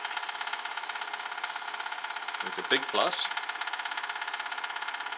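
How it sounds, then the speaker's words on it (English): A steady mechanical whir of a power sander wet sanding through the grits runs continuously with a rhythmic pulsing, while someone speaks briefly over it. "It's like sanding through the grits, wet sanding through the grits."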